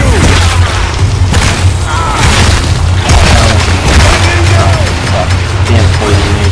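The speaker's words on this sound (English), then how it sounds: "Damn poison grenade, you bitch." Poison grenades go off in the video game Evolve, heavy booming thumps that come in a rapid, repeated barrage and sound loud and close, with scattered chaotic game noise between the hits.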